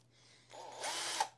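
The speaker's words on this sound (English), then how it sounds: "put your cone on it and the drill will move the cone for you" An electric drill whirs while spinning a yarn cone for winding yarn from cake or hank form: a soft hum that rises to a louder, steady whine midway, with a brief sharper spike near the end.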